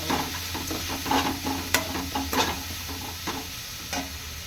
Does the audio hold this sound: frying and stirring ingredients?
yes